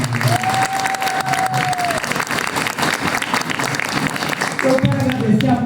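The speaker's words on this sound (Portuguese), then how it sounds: "por isso eu queria pedir uma salva de palmas para ela." A crowd at a political party assembly in Aracaju applauds loudly and steadily throughout, with some cheering and voices mixed into the clapping.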